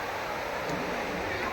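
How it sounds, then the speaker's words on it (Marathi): Ocean surf at Guhagar Beach, a broad steady wash of a wave breaking and rushing in, close and fairly loud, with a person talking over it. "ही बघा ही एक लाट मस्तपैकी."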